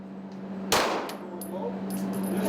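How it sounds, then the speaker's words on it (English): A single sharp gunshot rings out at a shooting range, a sudden loud crack with a metallic ring trailing off, followed by faint clinks over a steady background hum. "there was my first gunshot"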